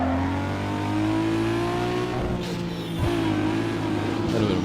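A Mark IV Supra in the racing game Need for Speed Underground 2, its engine revving loudly and continuously with rising pitch, a brief dip midway, then climbing again.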